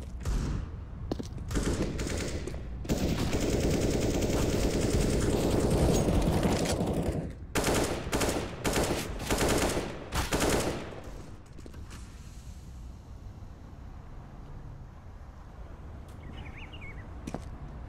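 Rapid bursts of gunfire in a CS:GO esports tournament match, shots packed densely through the first ten seconds, then thinning to quieter scattered fire and ambient noise.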